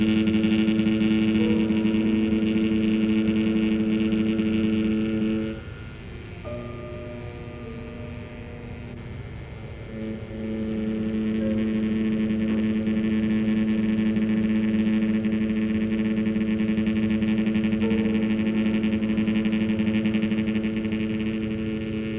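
Tattoo machine buzzing with a steady electric hum while lining a circle, briefly dipping quieter midway before resuming its even drone.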